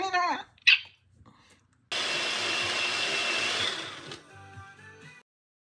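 A kitchen blender whirs loudly for about two seconds while making a green smoothie, then winds down, preceded by short voice sounds and a brief sharp noise.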